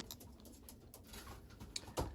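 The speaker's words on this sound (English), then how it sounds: "we just entered the young bird loft here" Young pigeons in a pigeon loft make soft coos, faint rustles and light pattering of feet and wings, quiet and close, with a slightly louder flutter near the end.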